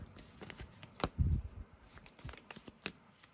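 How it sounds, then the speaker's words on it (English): A deck of tarot cards is shuffled close up, giving soft riffles, taps and the crisp slap of cards knocked together in short, irregular bursts. "My focus gets really bad when I'm live shuffling"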